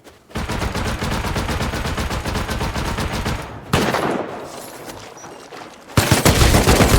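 Dense automatic gunfire during a raid in the survival game Rust, loud and continuous rapid bursts for several seconds, a sharp blast followed by a fading tail, then another heavy volley of shots near the end.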